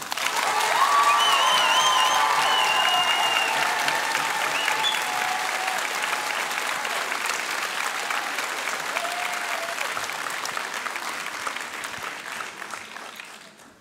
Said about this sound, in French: je vous demande pour elle, évidemment, un tonnerre d'applaudissements